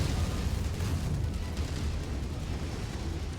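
A heavy missile explosion destroys a target in the mech combat game MechWarrior 5, a loud, rumbling blast whose deep roar sustains and slowly fades without a break.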